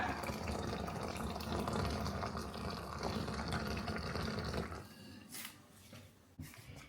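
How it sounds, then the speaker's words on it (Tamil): Hot water is poured into a cup for plain tea, a steady, loud rushing pour lasting several seconds before it tapers and stops, with a few light clinks near the end. "இப்படியே சுடுதண்ணியை வாக்க வேண்டியதுதான்"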